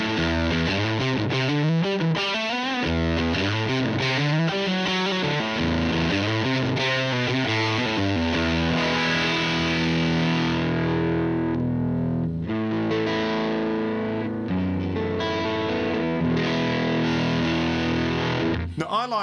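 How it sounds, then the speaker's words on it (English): Cranked, overdriven electric guitar through a combo amp simulated in Genome v1.7, thick distorted chords and sustained notes ringing loudly and continuously with a chorus-like shimmer. "if you crank it, you get this exploding combo amp sound"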